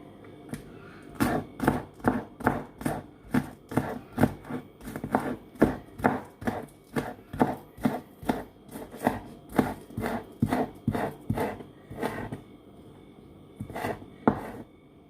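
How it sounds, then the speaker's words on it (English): A knife chops scallions on a cutting board in a home kitchen, making about two dozen crisp, evenly spaced strokes close up, pausing briefly near the end before a few more chops. "so here I'm now chopping up my scallion."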